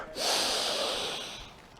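A single heavy, forceful exhale during a HIIT workout, close and breathy, starting sharply and slowly fading over about a second and a half.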